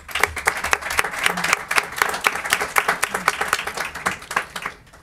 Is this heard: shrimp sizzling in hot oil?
no